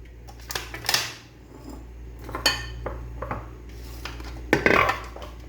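Dessert for Eid, a creamy Lab e Shireen, is spooned out into a serving dish with repeated clinks and scrapes of a metal spoon against the bowl, close and clear, with no talking.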